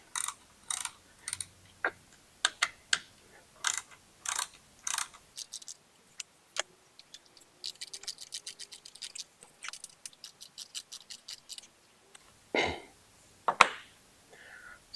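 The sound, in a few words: tightening button head bolts on motorcycle adapter plate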